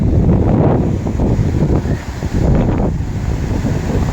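Strong wind blows across the microphone in a waterside park, a steady loud roar with gusting rumble and no talk.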